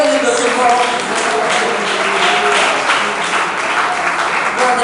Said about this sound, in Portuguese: louve a Deus com palmas, glorifique a Ele